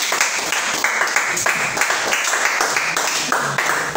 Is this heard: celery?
no